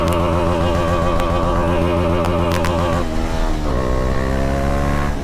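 A motorcycle engine revs loudly up close, holding a steady high-revving drone that dips in pitch partway through and then climbs again. No voices break through.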